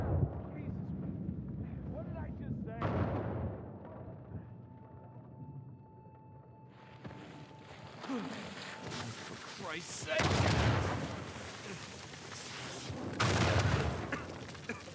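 Explosions and blasts in the action video game Uncharted 4: heavy booming bursts and rumbling debris, loudest in several surges toward the end, with quieter ambient stretches between.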